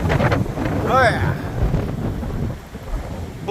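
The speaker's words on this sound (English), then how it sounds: "It got real windy for a minute" Gusty wind buffets the microphone as a cold front moves in, a loud rumbling roar that surges and eases, with a brief whistling tone partway through and no clear talking.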